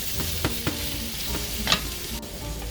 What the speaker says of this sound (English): So next I'm going to put in the zucchini